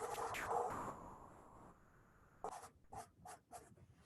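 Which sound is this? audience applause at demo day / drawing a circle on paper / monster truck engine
drawing a circle on paper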